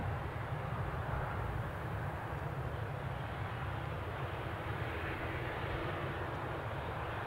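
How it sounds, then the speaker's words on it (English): An EasyJet airliner departs Newcastle Airport, its jet engines a steady, broad roar heard from a distance that holds evenly without voices. "here's our Belfast-bound EasyJet flight on its way out"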